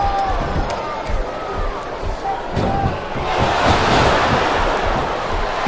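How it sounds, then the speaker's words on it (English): A capacity arena crowd roars and cheers in a wrestling video game, a continuous broad wash of noise that swells louder in the second half, with a commentator's voice over the start. "This capacity crowd is making their opinions known tonight."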